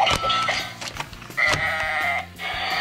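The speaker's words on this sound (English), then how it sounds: "Who brought a sheep to the battle?" A sheep bleats several times in quick, wavering cries, close and fairly loud, heard during a toy battle in an arena with no talking over it.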